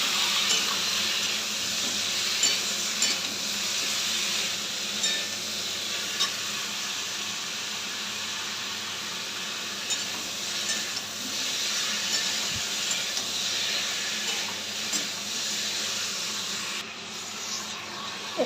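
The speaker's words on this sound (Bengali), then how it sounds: "এখানে আদা রসুন বাটাটা দিয়ে দিলাম, দিয়ে ভালো করে কষিয়ে নেব।" Ginger-garlic paste fries in a pan with a steady, close hiss and sizzle that carries on for a long stretch, with faint stirring beneath it.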